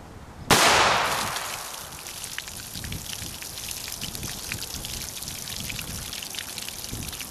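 A Walther P5 pistol fires a single loud, sharp gunshot during bullet penetration testing, its crack ringing out and fading into a long, rattling decay.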